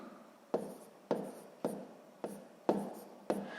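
Pen or pencil strokes on paper while working a sixth-grade fraction exercise, six short scratchy bursts at roughly half-second intervals, close and quiet, with no talking.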